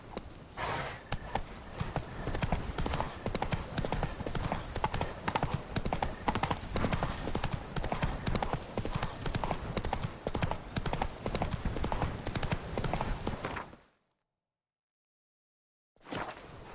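Horse galloping in The Witcher 3 video game, a rapid, continuous clip-clop of hooves, close and steady, stopping abruptly into silence before briefly resuming at the end.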